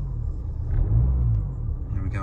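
A car engine revs up from idle, a steady low rumble swelling and easing back over a couple of seconds while someone talks over it; a fault code reader is plugged in.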